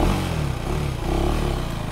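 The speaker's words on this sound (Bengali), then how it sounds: "এখান থেকে আমি বাইকটা প্রথমে স্টার্ট করছি" A 398 cc motorcycle engine starts up in first gear, a steady, close mechanical rumble with some clatter running through the short moment, with no voices.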